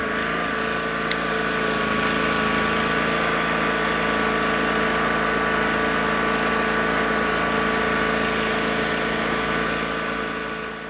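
A lawn mower engine runs at wide open throttle while driving across a lawn, a loud steady drone with a constant pitch that holds throughout and eases slightly at the end.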